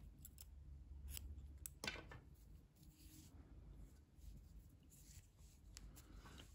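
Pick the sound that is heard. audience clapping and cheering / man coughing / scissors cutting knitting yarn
scissors cutting knitting yarn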